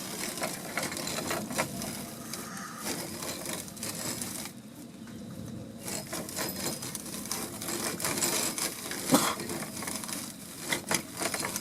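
Wild oat seeds being ground by hand in a wooden coulamon, a continuous close scraping and crunching rasp with a brief lull midway, no talking.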